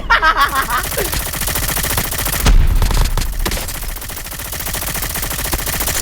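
Rapid bursts of automatic gunfire ring out in a battle royale video game, loud and dense, with one heavier boom in the middle and a sustained rattle of shots over background game sound.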